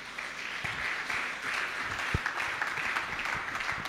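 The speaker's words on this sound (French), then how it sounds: "Est-ce que tu peux acclamer le Seigneur?" Congregation in a church service applauding and cheering the Lord, a steady wash of clapping hands from many people that rises slightly toward the end.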